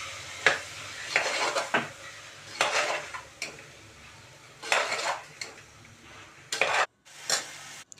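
Repeated scraping strokes of a spoon stirring vegetables for veg biryani in a metal pot, coming in uneven bursts with short pauses between them, close and fairly loud.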